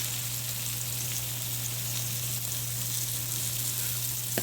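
Potatoes seasoned with black pepper and garlic powder fry in a hot pan, giving a steady, even sizzle throughout with a low hum beneath and no talking.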